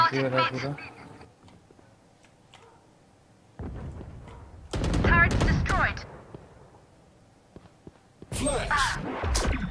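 Bursts of video game gunfire crack out in short clusters between stretches of near silence, loud and close, with someone talking over parts of it.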